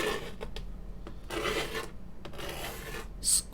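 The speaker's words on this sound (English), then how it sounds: "I'm going to make some scrapes the other way, in the other direction" A sharp needle scraping across a sheet of polymer clay, giving several short, close rasping strokes in an uneven rhythm with brief pauses between them, and no talking.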